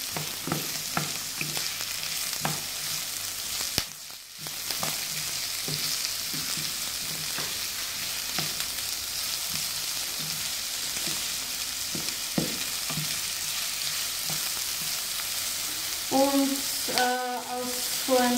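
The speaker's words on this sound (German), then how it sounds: "Jetzt braten wir halt einfach die Zwiebel ein bisschen an." Onions browning in a pan with steady dense sizzling, punctuated by frequent scraping clicks as they are stirred, continuing at close range throughout with a brief lull early on.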